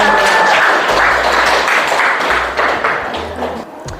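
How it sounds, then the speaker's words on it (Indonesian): A classroom of students applauds a group, dense continuous clapping at close range that fills the whole stretch and tapers slightly toward the end. "tepuk tangan untuk kelompok"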